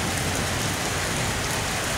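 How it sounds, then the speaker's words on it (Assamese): Steady rain pours down, a dense continuous hiss close by with no pauses, alone without voices. "এই অৱস্থা চাচোন চা বৰষুণ আহি আছে"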